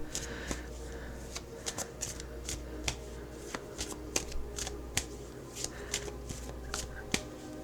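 Tarot of Dreams cards being shuffled by hand: a steady run of crisp riffling snaps and soft card slaps, close and clear, repeating at irregular intervals over a low background hum.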